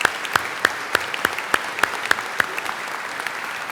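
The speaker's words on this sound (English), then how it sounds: "give him a round of applause for his wonderful performance" An audience claps after an organ performance at a university business school ceremony, with loud, regular claps standing out above a steady wash of applause throughout.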